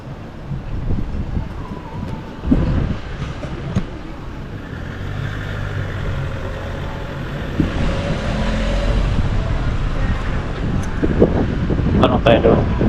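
Strong wind at Tagaytay buffets the microphone in a continuous rushing roar, with passing traffic rumble beneath and people talking intermittently over it throughout.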